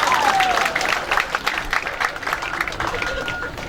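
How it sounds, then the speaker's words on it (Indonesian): Clapping from an audience at a vocational school's fourth anniversary celebration rises and falls in uneven bursts, fairly close, with murmuring voices mixed in. "Tepuk tangan untuk kita semua."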